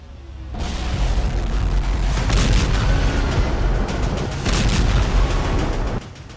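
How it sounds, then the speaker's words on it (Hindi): Russian attacks on Kharkiv in the war in Ukraine: a dense, continuous roar of heavy blasts and rumbling booms with sharp bursts breaking through, loud and sustained for several seconds before dropping off abruptly. "खार्किव पर ऐसे ऐसे हमले हो रहे हैं जहां आग लगातार दहक रही है।"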